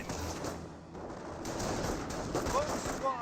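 Sniper and small-arms gunfire from a Company of Heroes World War II strategy match, with shots crackling in quick bursts under steady battle noise and a few whistling tones near the end.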